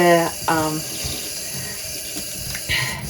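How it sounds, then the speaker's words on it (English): Dyed yarn is rinsed under a running tap, with a steady splashing flow of water lasting the whole time and a voice talking briefly over it at the start. "So I'm just going to rinse this through"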